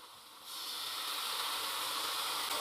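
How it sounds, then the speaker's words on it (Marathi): Sugar going into hot carrot halwa in the pan, a sudden steady hissing sizzle that starts after a quiet moment and holds evenly, close and moderately soft, with no talking. "तर आपण याच्यामध्ये आता साखर घालून घेतो."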